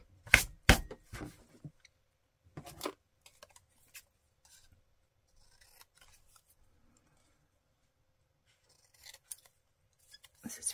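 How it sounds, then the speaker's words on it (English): Scissors snip through a book page in a few quick close cuts, with pauses of near silence and faint rustling between. "Scissors."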